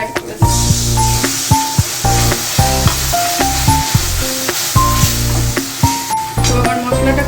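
A cashew-poppy seed spice paste fries in a pan with a constant loud sizzle, under a repeating pattern of clear pitched tones that carries on throughout.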